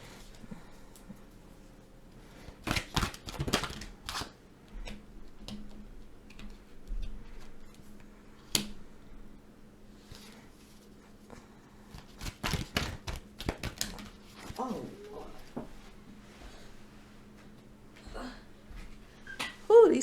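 Tarot cards shuffled by hand in quick clustered bursts of crisp flicks, taps and snaps, close by, with pauses between flurries over a low steady hum.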